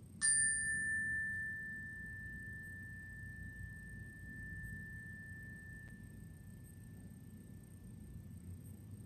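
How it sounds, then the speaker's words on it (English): A single mindfulness bell struck once near the start, its clear tone ringing on and slowly fading over a soft, steady background hum. "Be mindful of the sound of the bell."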